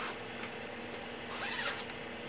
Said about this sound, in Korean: 그러고 지퍼 한번 올려서 위아래 길이 같은지 확인 한번 할 거고요